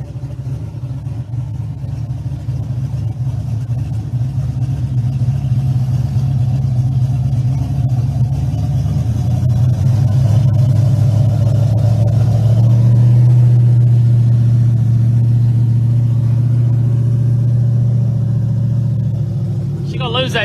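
Pontiac Firebird drag car at a street car drag event, its engine rumbling low and loud, swelling into a stronger revving drone about midway and holding there, with crowd and commentary voices mixed in.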